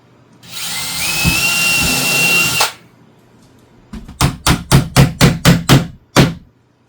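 A power drill whirs steadily for two seconds driving a screw into a cabinet, then a rapid series of about eight sharp hammer-like knocks follows, close and alone without talk.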